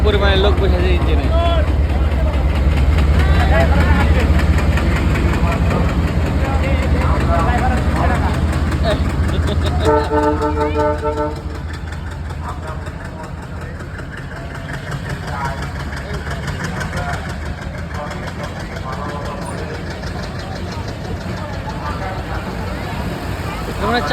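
A train locomotive engine idles at night at a station, a steady low rumble with knocking, under loud talk from a crowd of people nearby.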